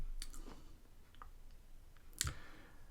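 A couple of soft, close mouse clicks on a copy button, one sharper click standing out near the end over faint room hiss.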